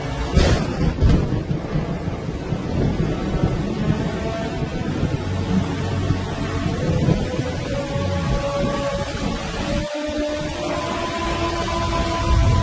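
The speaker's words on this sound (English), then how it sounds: "The first rain for 8 months." Thunder during the first rain in eight months on the African savanna, a loud rolling rumble over steady rain hiss with a sharp crack near the start.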